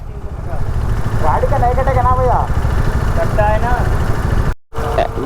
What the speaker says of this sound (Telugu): ఫస్ట్ టైం టోల్ అయితే కడుతున్నాం బైక్స్కి టూ బైక్స్కి కలిపి సెవెన్ హండ్రెడ్ తీసుకున్నాడు